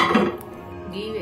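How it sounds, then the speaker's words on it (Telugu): A pressure cooker set down on a stove while cooking Hyderabadi mutton haleem gives a short metallic clatter and clunk up close, then settles into a low kitchen hum. "ఇప్పుడు స్టవ్ ఆన్ చేసుకొని కుక్కర్ పెట్టుకుందాం"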